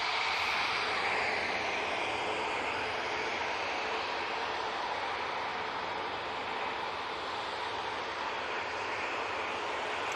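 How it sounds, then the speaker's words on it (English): A TUI Boeing 787 Dreamliner on final approach to an airport produces a broad, steady engine rush that stays loud and even for the whole stretch, with no talking. "We have another TUI Dreamliner coming in from Fate Melbourne."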